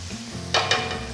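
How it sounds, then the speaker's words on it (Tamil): Onions stir-fry on a high flame for chicken fried rice, giving a soft sizzle with two brief scraping stirs over a low background hum. "எல்லாமே ஹை ஃப்ளேமில் வச்சு நம்ம இதை ஸ்டர் ஃப்ரை பண்ணணும்."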